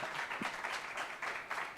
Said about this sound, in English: Please could you have a round of applause for Alexis and Sheba